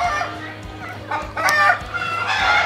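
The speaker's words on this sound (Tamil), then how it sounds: "வித்தியாசமான கோழி." An unusual-looking chicken at an exotic bird park in Yelagiri, Tamil Nadu, gives a few loud, close clucks and squawks in short bursts over a steady background hum.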